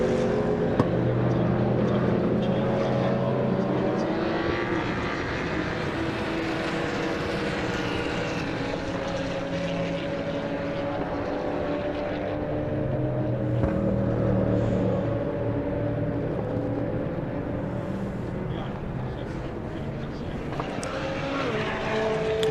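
Caterham race cars roar continuously around the Silverstone circuit, a steady engine drone with rising and falling passes and some distance to the sound.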